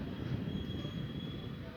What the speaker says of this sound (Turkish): vantilatör. Şu an sesini duymaktasınız.